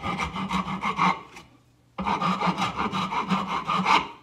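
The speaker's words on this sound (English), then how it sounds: "the rasp seems to be what it wants to do" A rasp files a wooden sword blade in quick, steady rough strokes at close range. After a short pause the rhythmic scraping resumes.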